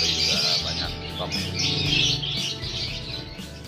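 Lovebirds and canaries chirp together in a crowded bird shop, a dense, steady chatter of many overlapping high tweets that carries on throughout without a break.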